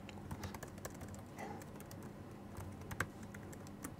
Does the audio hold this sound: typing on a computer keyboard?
yes